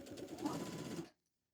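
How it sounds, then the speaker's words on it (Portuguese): A sewing machine runs in one brief, close burst of rapid stitching along the edge of a fabric napkin, then stops abruptly into silence. "Então a gente vem costurando aqui por dentro, bem na beirada"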